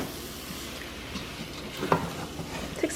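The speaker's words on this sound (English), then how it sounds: "I'm going to stir this well and heat it through." Chicken pie filling with whole milk is stirred while heating in a pan, a soft continuous sizzle and low scraping under a faint hiss, quiet and steady with a couple of small clicks.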